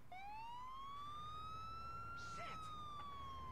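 An ambulance siren in GTA 4 rises and holds as a single long, clear wail, faint and somewhat distant, over a low engine rumble.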